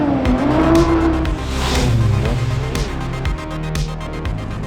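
Classic cars racing flat out on a closed-road special stage of the Tour Auto, engines revving hard with a rising pitch, gear changes and a brief tyre squeal, loud and close with no voices.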